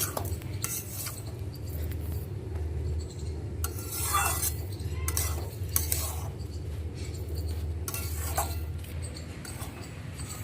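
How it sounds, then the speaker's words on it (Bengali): Rice with sugar and ginger stirred in a pot for basanti pulao: a spoon scrapes and clinks against the metal at a steady, unhurried pace, with a low hum running underneath. "ভালো করে নাড়িয়ে দেবো চিনি থেকে যে জলটা বেরোবে"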